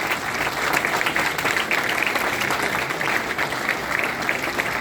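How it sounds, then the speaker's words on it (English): A conference audience at Amity University gives a standing ovation: continuous, even applause from a large crowd at moderate volume, sustained for about five seconds with no speech on top. "please give a huge round of applause with a standing ovation to all our guests."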